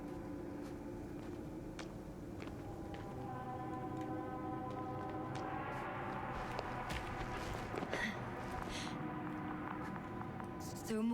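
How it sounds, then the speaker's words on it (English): Soft, evenly spaced footsteps in the sci-fi video game The Invincible, fairly faint and set in a layer of sustained tonal music and ambience, with a voice speaking in places. "I have a lead. His footsteps."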